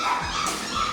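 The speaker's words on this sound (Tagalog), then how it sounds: "Grabe naman ang ingay ng mga tutoy mo. Mga aso mo." Several dogs yip and bark close by, short overlapping calls over a steady background hum from a duck-breeding farm setting, with brief whimper-like tones.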